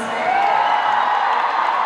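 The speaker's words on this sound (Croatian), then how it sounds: "molim vas na veliki aplauz" Large concert crowd cheering in a big venue, a dense roar of whoops and yells that stays loud and unbroken throughout, heard alone.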